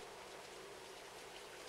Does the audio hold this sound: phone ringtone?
no